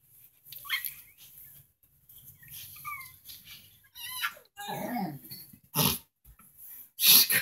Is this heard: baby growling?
yes